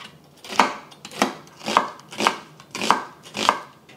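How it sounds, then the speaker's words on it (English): Onion and garlic are chopped by hand with a knife on a board in six evenly spaced, crisp strikes roughly two-thirds of a second apart, close and clear with no talking. "I'm just gonna chop this up by hand"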